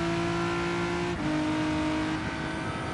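Audi R8 Group 3 race car engine in Gran Turismo Sport, a steady droning tone that drops in pitch as it shifts, then holds, loud and continuous with no talk.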